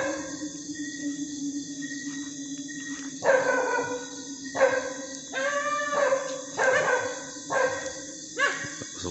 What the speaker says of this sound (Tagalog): Ayun, kumakahol yung aso.